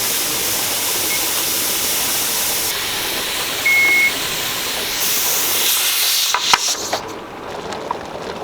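A pressure canner processing beef bone broth vents steam in a loud, steady hiss that fills the whole clip, with a short beep partway through and a few clunks near the end as the hiss briefly thins.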